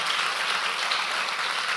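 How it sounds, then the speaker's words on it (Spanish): Church congregation applauding together, a steady, dense wash of clapping from many hands at close range, with no break and no talk. "Porque no me deja esa gente aplaudiendo sola."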